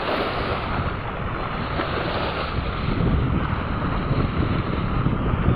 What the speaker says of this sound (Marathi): हवा मस्त चालू आहे त्यामुळे लाटा भरपूर येत आहेत.